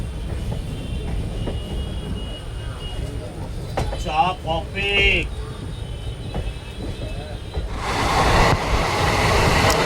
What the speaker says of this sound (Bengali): আমাদের ট্রেন চলেছে এবং পাশেও ট্রেন চলেছে একই সাথে।